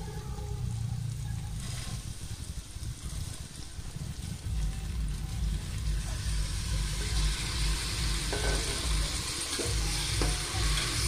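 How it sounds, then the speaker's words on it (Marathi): Washed dal and rice sautéing in oil with biryani masala for masale bhat, a continuous sizzle with the scrape and shuffle of stirring, plus a low rumble like passing traffic in the background. "डाळ तांदूळ हे तेलामध्ये मसाल्यामध्ये थोडेसे परतून घेऊया"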